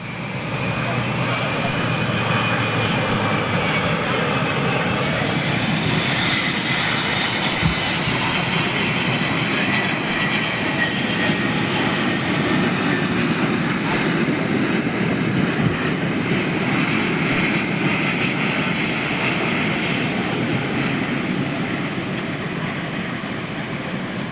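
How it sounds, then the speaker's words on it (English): An Etihad Airbus A380 jet arrives at London Heathrow, its engines making a loud, sustained, broad roar that holds steady throughout. "here's the world's largest commercial passenger jet, folks. Right at you now, Etihad's A380."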